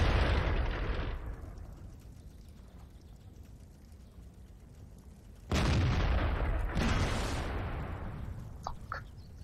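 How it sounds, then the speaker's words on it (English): Explosion in a lake in World of Tanks, a loud boom that decays into a low rumble, then a second powerful blast several seconds later with a sustained roar and small crackles. "Someone exploded in the lake."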